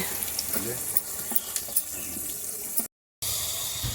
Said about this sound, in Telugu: ఆయిల్ హీట్ అయ్యాక ఇప్పుడు దీనిలో ఉల్లిపాయ పచ్చిమిరపకాయ ముక్కలు వేసుకోవాలి